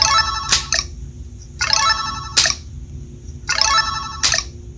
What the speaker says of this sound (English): This next line shows you how to disable the crank audio.